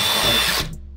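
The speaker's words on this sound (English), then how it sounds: "and just drill through." A power drill bores through wood to open a path for running network cable in a home installation, a steady high whine for about half a second that stops abruptly and leaves near silence.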